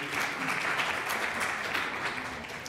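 An audience at a round-table discussion applauds continuously, a dense, even wash of clapping hands that holds steady for the whole stretch with no talk over it.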